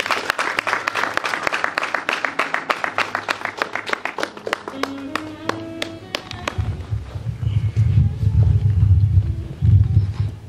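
Wedding congregation at a religious ceremony clapping together, a dense burst of applause that thins into scattered claps, with organ-like tones and a low rumble taking over near the end.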